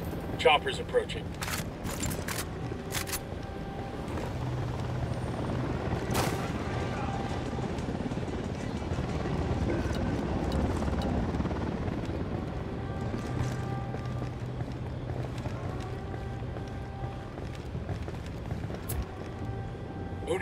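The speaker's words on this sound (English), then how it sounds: "Chopper's approaching." Military helicopter in the video game Ghost Recon Wildlands drawing closer, a steady low rotor drone building under gunfire, game effects and voices talking throughout.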